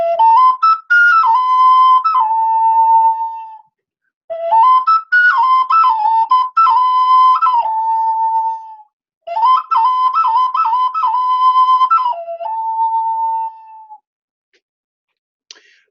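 Replica Teotihuacan ritual ball game instruments, clay whistles, sound three long warbling phrases, each rising into bending pitch slides before settling on a sustained tone, with short silent gaps between them.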